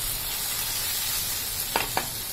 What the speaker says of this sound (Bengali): কচুটা সুন্দর মতো ভাজা ভাজা হয়ে যাচ্ছে।